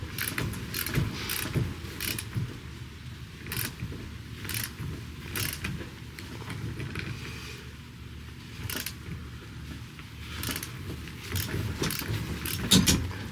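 A SUZUME 1/2-inch drive torque wrench tightening a small trailer's lug nuts to 90 foot-pounds: a rattling ratchet with metallic clicks in uneven bursts, close, against low background noise.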